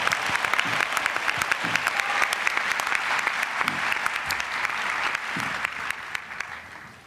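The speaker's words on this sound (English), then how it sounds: "I want us to give them a special round of applause" Graduation ceremony audience applauding the musicians, a loud, steady round of dense clapping from a large crowd that carries throughout and tapers slightly toward the end.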